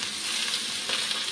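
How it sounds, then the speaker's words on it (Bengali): Chopped radish drops into a pan of half-fried onion, giving a brief, close, even hiss of frying with faint stirring texture. "এখন কেটে রাখা মূলোটা দিয়ে দিচ্ছি।"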